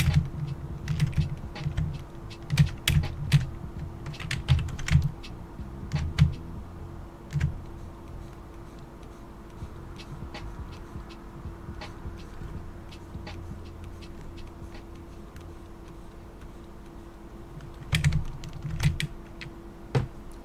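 Keystrokes clatter on a computer keyboard in irregular bursts with pauses between them, close and fairly clear, with no talking.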